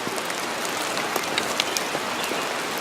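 Steady rain patters outdoors onto soaking-wet wood while a fire is being built, a dense, continuous hiss of drops with occasional louder splats nearby.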